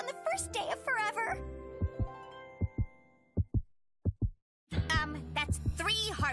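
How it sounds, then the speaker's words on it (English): Several soft, low thumping beats, some in pairs, sound close up under a cartoonish musical backdrop, with talking before and after the beats. "That's three heartbeats, Mina."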